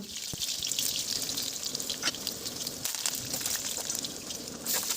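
Mustard seeds, chili, curry leaves and dals fry in hot oil, giving a close, continuous hissing sizzle with scattered crackles throughout. No one speaks.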